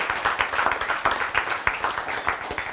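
Audience applause at a talk about helping youth, a dense crowd of hands clapping steadily and fairly loud throughout, with no voices on top.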